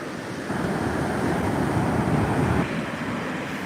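Waves and water pour into an inlet near Bethany Beach under Hurricane Erin flooding, a loud continuous rush mixed with wind buffeting the microphone, swelling briefly before easing slightly toward the end.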